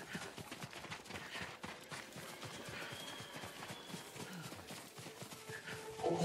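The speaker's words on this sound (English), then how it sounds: "Horses, they're coming for us." Horses gallop in the video game Ghost of Tsushima, a rapid, steady drumming of hooves at moderate distance, fairly quiet and continuous, with no talking.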